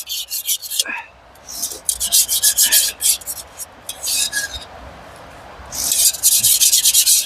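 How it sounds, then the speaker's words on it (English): A metal spoon scrapes the inside of a can at a snowy day camp, a series of loud, rasping strokes in irregular bursts with short pauses between them. "So it's using my spoon to kind of scrape the edges of the can."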